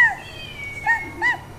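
A pet cat gives several short, close meows: one at the start and two more spaced about a second apart near the end, with quiet gaps between them.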